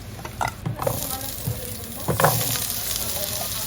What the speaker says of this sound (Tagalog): Pang kaldereta, iprito ko tong patatas.